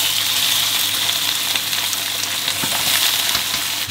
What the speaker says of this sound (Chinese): 把它姜蒜炒香，下鸡。